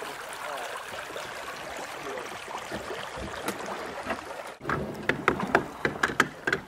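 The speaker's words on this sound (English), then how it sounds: "Got some rapids right here." Rushing river rapids on the Independence River wash past a kayak in a steady broadband roar, ending in a stretch of sharper splashes and paddle knocks close by.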